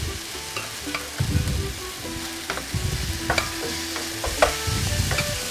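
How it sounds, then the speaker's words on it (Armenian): Sour cream being stirred in a hot frying pan while making a Cilician-style dish, a spoon scraping in bursts over a steady close sizzle, alone without talk. "Մի փոքր խառնում եմ, թողնում եմ թթվասերը տաքանա"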